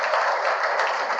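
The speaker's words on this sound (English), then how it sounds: "let's give Imron a round of applause" Meetup audience applauding a Python talk speaker, a dense, steady round of clapping heard for just a moment.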